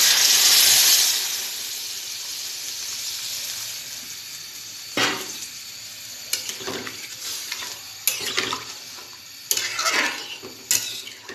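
Water poured into a hot frying pan bursts into a loud hissing steam for about a second, then fades to a low simmer while a spoon stirs and clatters against the pan in irregular bursts, close by.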